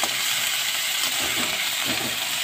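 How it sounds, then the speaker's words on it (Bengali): Ginger sizzling in hot oil with panch phoron, the five-spice mix of whole seeds, a steady dense crackling fry with faint stirring scrapes, close and continuous with no talk. "আদাটাও আমি একটু ভাজা ভাজা করে দিলাম।"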